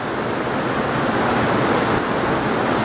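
A river current rushes beneath a bridge in spring, carrying the last drifting ice and debris toward the sea, a steady, loud broadband roar that holds unbroken throughout.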